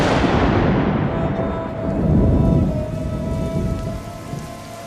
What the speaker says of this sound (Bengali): পর মুহূর্তেই হৃদয় কাঁপিয়ে দিয়ে অন্ধকার আকাশকে দুখণ্ড করে একটি বজ্রপাতের সাথে শুরু হলো মুষলধারে বৃষ্টি।